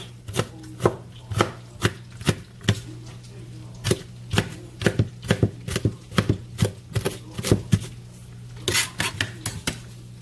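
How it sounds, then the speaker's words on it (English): Sharp, evenly spaced knife strokes hit a cutting board while onions are diced into cubes for potato soup, close and crisp with a low steady hum beneath and brief quickened bursts. "I'm going to chop them like this, and then with that, to make cubes."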